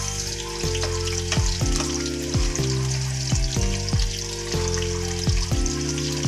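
Potatoes frying in a pan for homemade chicken kaldereta, a steady continuous sizzle with occasional sharper clinks and stirring knocks, no talking.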